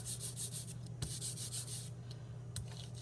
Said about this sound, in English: Recoat your printing plate.